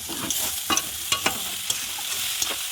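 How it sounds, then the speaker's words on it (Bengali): Masala spices frying with soybean in a pan, a steady sizzle punctuated by sharp scraping stirs of a spatula every half second or so, nearby. "আর মশলাটাকে ভাজবে।"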